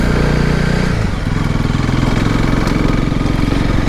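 A Honda CRF300 Rally motorcycle engine runs loud and steady with a low pulsing throb, a brief dip just after the first second before settling back into an even idle-like drone, heard alone.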